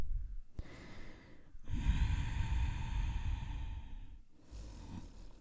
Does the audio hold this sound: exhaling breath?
yes